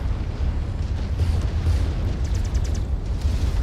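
Missiles slam into a mech in MechWarrior 5, a heavy low rumbling roar of explosions rolling continuously and loud, with faint crackling bursts above it and no talk.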